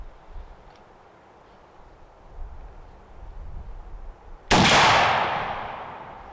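A single loud, close shotgun blast from a 12-gauge firing a Winchester 3.5-inch number 4 shot turkey load, following quiet outdoor ambience and decaying into a long echo.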